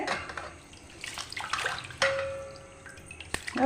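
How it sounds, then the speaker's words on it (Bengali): Gobindobhog rice being rinsed in water by hand at home, splashing and sloshing in a vessel with soft swirls and a few small clinks, close and fairly quiet. "আমি চালটাকে 2-3 বার করে ধুয়ে নেব"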